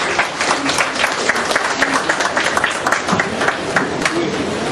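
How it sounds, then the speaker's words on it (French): A conference audience at a tourism investment event applauds steadily, a dense wash of many hands clapping close and continuous, with a faint murmur of voices underneath. "Je vous demande d'applaudir, mesdames et messieurs."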